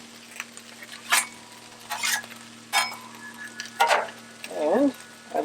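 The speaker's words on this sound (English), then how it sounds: "That butter's still in there melting." Butter melts and sizzles on a Blackstone griddle under a low steady hiss. A metal spatula scrapes across the flat top in a few close strokes, with a short bit of voice near the end.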